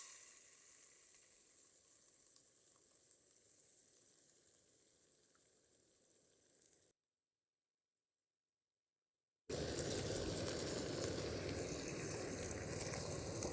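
Cleaned, drained prawn heads hit hot oil with mustard seeds, bursting into a sudden loud, steady spluttering sizzle after a few seconds of near silence.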